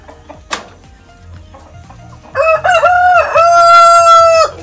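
Free-range chickens on a farm: soft scattered clucks and rustling, then a loud, close rooster crow rings out in a long, wavering call.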